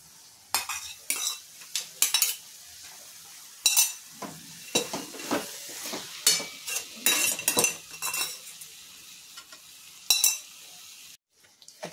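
Paneer ball curry gravy with cooked vegetables being sautéed in a pan: repeated metal spoon clinks and scrapes in irregular bursts over a low, steady sizzle, close by.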